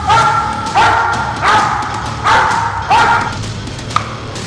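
Police K9 dogs barking near a car, five loud, close barks at roughly regular intervals with whimpering yips between them and a single thump near the end.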